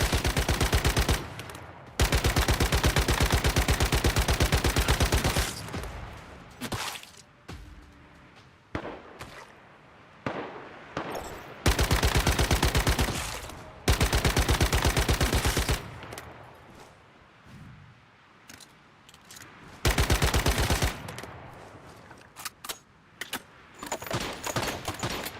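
Bursts of automatic gunfire in the video game Once Human, several long loud volleys separated by quieter gaps, rapid and continuous while they last.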